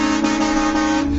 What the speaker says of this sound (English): When I got mine, it came with a train horn.